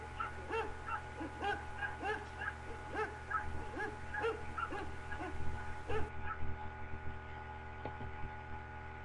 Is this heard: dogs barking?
yes